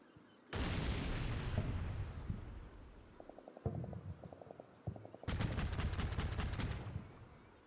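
Bursts of machine-gun and rifle fire in Combat Mission: Cold War, aimed at the edge of a forest, loud and sustained, broken by shorter rattling volleys and a few heavier booms, with no voices.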